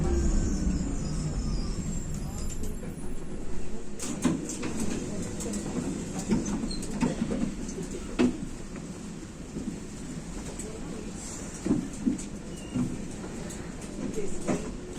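A tram runs through a tunnel beneath a residential building in Gera, Germany, giving a steady low rumble with scattered metallic clanks and knocks throughout.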